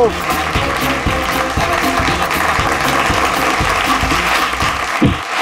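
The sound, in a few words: loud applause from game show audience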